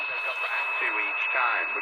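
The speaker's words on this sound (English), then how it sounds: "We got WTMG in Milwaukee here. Not too far away, but birdie tones." AM broadcast from WTMG Milwaukee on a Radio Shack AM/FM shortwave receiver, a steady band of hissy, filtered radio audio with a faint whistling heterodyne tone running through it.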